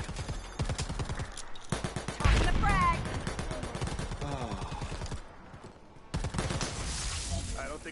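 Video game gunfire in rapid bursts of automatic shots, close and sharp, broken by short pauses, with voices talking over parts of it.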